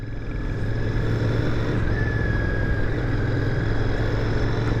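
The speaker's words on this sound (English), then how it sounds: "downshifts are nice, smooth, and precise right now" A 2021 Royal Enfield Continental GT 650 parallel-twin motorcycle is ridden, its engine a steady, loud drone under heavy wind rush, with a slight rise in pitch midway as it shifts.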